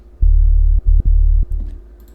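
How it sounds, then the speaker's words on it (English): A deep synthesized sub-bass tone, a sine wave with a few harmonics made in Serum, pulses in a few sustained notes with brief gaps, smooth and heavy, then fades out. "So it's just a sine wave with a little bit of harmonics that I draw."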